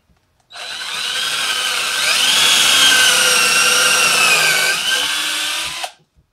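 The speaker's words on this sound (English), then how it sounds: "it's really not drilling through a full 2x4" Ryobi cordless power drill, running straight off a solar panel, boring through a full-width 2x4 of wood in one continuous loud whine lasting about five seconds, close up and alone with no talking.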